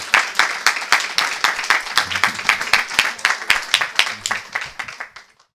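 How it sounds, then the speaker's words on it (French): An audience claps steadily and fairly close, a run of distinct sharp claps at a brisk rhythm that fades out near the end. "je voulais quand même que vous applaudissiez très fort Florian et Yo"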